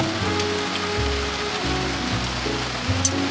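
Rain drumming steadily on a car on a rainy day, heard from inside as a continuous patter with a low rumble beneath, no talking.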